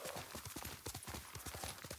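Quick, rhythmic hoofbeats of a galloping horse ridden through the video game Ghost of Tsushima, a steady close clip-clop running throughout with no voices over it.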